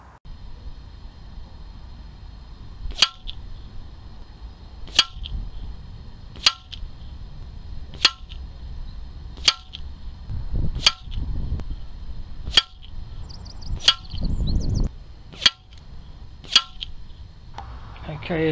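A Falcon Prairie B .177 air rifle fires pellets at a 50-yard target, about ten sharp cracks spaced a second or two apart against a low background hum, with faint shuffling between shots.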